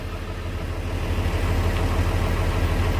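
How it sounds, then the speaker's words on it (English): A tractor engine comes to life and settles into a steady, throbbing low rumble that grows slightly louder after the first second, with no voices. "so the wife is just starting the tractor up"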